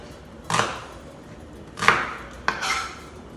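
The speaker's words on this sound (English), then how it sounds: "We're going to cut a little bit of onion to put some flavor here" A knife chops onion on a board for a tiradito sauce, three separate solid knocks spaced apart, close and clear with no talking.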